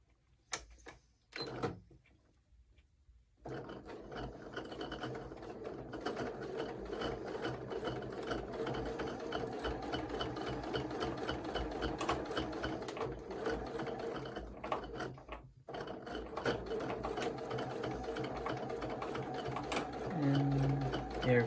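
A sewing machine stitches a fabric ornament in a quiet room, its rapid mechanical whir running nearly continuously after a few brief starts and stops, close and moderately loud.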